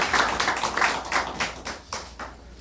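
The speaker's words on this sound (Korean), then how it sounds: "크게 박수 부탁드립니다." Applause from press members and citizens welcoming a candidate at a campaign press conference: a steady burst of many hands clapping for about two and a half seconds, fairly close, with no talking.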